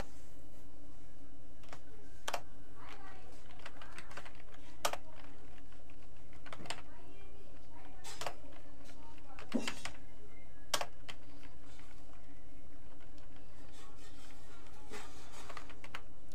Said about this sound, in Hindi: अपने को करना है तो थोड़ा कुछ टाइप करना पड़ेगा पहले